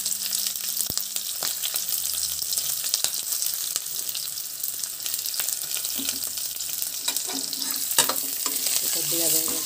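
Onions and tomatoes fry with asafoetida for hotel-style idli sambar, a steady close sizzle with scraping stirs and a few clinks of the spoon against the pan, and no one speaks.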